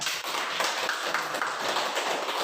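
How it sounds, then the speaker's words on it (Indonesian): A classroom of students claps together in a dense, continuous burst of hand claps that stays fairly loud and close for its whole length. "Oke, kita tepuk tangan."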